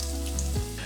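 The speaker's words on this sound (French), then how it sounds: "on envoie directement les oignons dedans." Onions hit a hot pan and sizzle, a short close crackle of frying under faint background tones.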